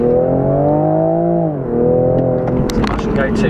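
A Toyota GR Supra with 340 horsepower pulls hard on the road, its engine rising in a smooth climb, easing briefly and rising again while the driver talks over the steady drone.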